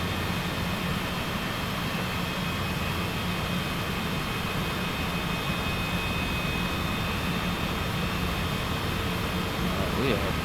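A jet aircraft on approach to the runway gives off a continuous, even engine drone with an airy rush, steady and moderately loud throughout.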